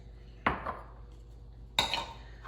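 Pecan pie filling stirred in a bowl, a spoon striking the bowl sharply twice about a second apart, close and clear, with quiet pauses in between.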